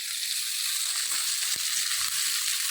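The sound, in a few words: fenugreek frying in oil for curry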